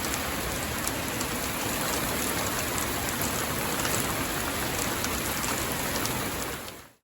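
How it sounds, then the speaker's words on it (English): Rain pours steadily onto a freshly waxed Model A Ford, a dense, even hiss of drops on the car that holds at constant loudness and then cuts off at the end. "And then it rained."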